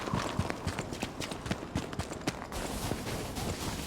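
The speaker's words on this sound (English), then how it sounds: "a quick moment to appreciate the sound in this game, with crisp differentiation between the sound of you walking on ice versus in snow" Footsteps of a character crunching across snow and ice in the video game Lies of P, a steady series of crisp, close steps with a clipped, brittle texture.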